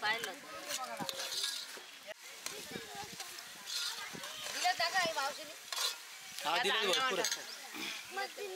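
Ginger garlic paste frying and being stirred in a pan, with scraping stir strokes over a sizzle; people talk throughout, and animal-like bleats may be mixed in.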